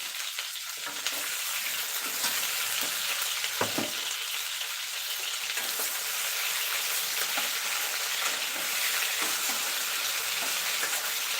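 Masala brinjal curry fries in a pan with a steady, close sizzle throughout, with faint stirring scrapes over it and no talking.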